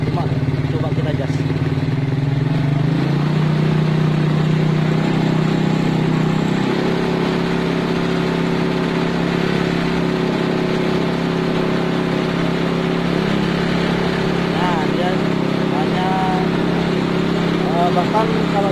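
A motorcycle with a weak battery runs steadily at close range, its low engine drone stepping up in pitch and loudness after a few seconds as the throttle is opened, then holding a higher, even rev for the remainder.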